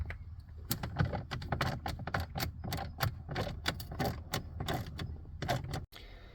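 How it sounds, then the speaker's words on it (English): Three 7mm screws being backed out from beneath the glove box of a Ford Expedition, heard as a dense run of close, sharp clicks and ratcheting taps that continue steadily for several seconds, then stop abruptly. "So remove those screws."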